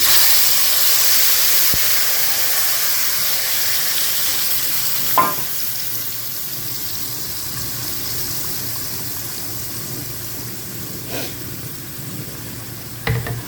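Ground masala paste frying in hot oil for a Kerala fish curry, giving a steady close sizzle and hiss with a few sharp stirring knocks and no talk.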